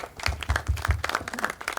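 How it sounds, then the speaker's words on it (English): Audience at a literature and art festival session in Bhopal applauds, steady hand claps with a few louder individual claps near the front, moderately loud and continuous, no talking. "A huge round of applause, ladies and gentlemen."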